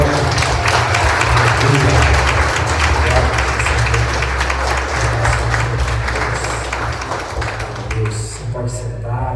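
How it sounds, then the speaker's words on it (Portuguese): A church congregation applauding at a morning service, loud sustained clapping from many hands with voices mixed in, tapering off slightly toward the end. "Dá uma salva de palmas para o Senhor"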